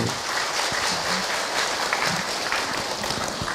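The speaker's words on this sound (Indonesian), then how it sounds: "Tepuk tangan untuk beliau" An audience applauds a speaker at an Islamic talk, a steady crowd of clapping hands that carries on throughout, close and fairly loud, with faint voices beneath.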